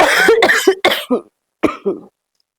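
A person coughs in a close series of harsh, loud bursts, several in quick succession, then a brief pause before two more coughs follow.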